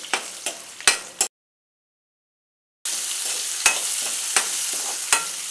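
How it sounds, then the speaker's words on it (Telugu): Ginger, green chillies, cumin, bay leaf and cinnamon frying in a pan for tomato rice, a steady close sizzle broken by sharp stirring scrapes, cut by a second-long silent gap before the frying resumes louder. "అల్లం, పచ్చిమిరపకాయలు, జీలకర్ర, బిర్యానీ ఆకు, దాల్చిన చెక్క, కొంచెం మసాలా అయితే ఇలా వేసుకోవాలి. ఇవి బాగా అయితే వేగాలి."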